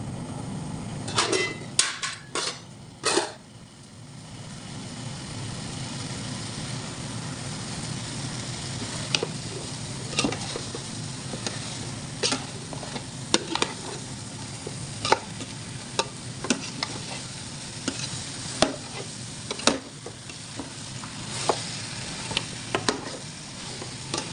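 Cow trotters cooking in a pan are stirred with a utensil, making a series of sharp metallic scrapes and clinks over a soft, steady sizzle, close and fairly loud, with scattered knocks throughout.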